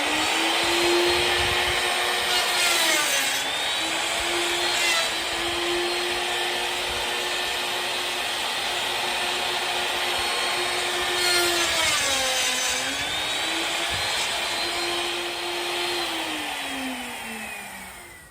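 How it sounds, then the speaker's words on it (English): Router stripping wood to level the top of a tree stump, a loud steady motor whine that dips in pitch twice as it bites in, continuous for the whole stretch and fading at the end. "is what was stripped away by the router"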